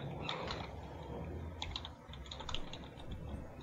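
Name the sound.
storyteller typing on a computer keyboard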